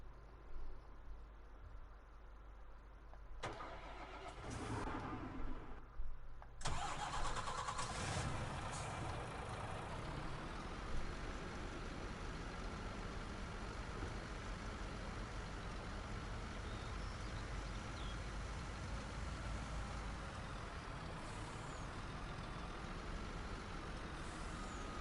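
A truck in Farming Simulator 19 on PS4: the engine cranks and catches with a couple of sharp bursts, then settles into a steady, loud, droning idle that runs on without a break.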